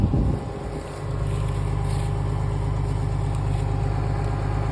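A Farmall 460 tractor engine runs outdoors after pulling a long tree, a steady low rumbling idle heard close up with some wind noise and no talking.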